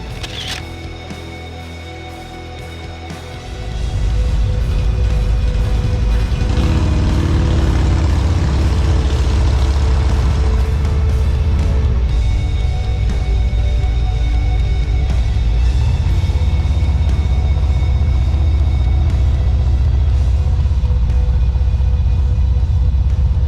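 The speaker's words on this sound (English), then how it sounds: "Truck stop visit." Trucks idle and move about a truck stop in Nashville, Georgia, a dense low rumble that swells after a few seconds into a loud continuous roar with faint mechanical clatter.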